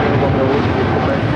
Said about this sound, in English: That is United Airlines 1855 taking off to Newark on the 787-9